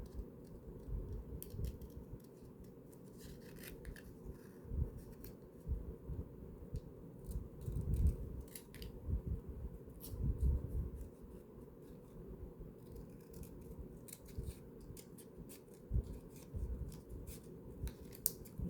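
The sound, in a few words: scissors cutting paper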